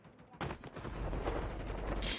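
Gunfire in a mobile battle royale game: a sudden burst of rapid, dense shots with mechanical clatter, continuing for about two seconds at moderate loudness with no talk.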